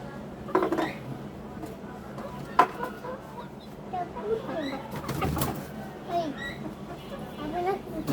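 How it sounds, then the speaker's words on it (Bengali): Domestic chickens, a rooster and a hen kept in a cage at home, cluck and call in short, scattered bursts close by. A voice talks quietly in the background. "এইটাও মোরগ আর এটা মুরগি।"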